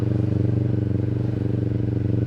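Kawasaki Ninja 400 motorcycle cruising on the road, its engine a steady close droning hum throughout with faint rattling, no clear revving or talk.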